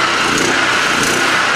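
A 3500-watt generator set up with an HHO hydrogen fuel cell runs steadily with a loud, continuous engine roar and no breaks or changes.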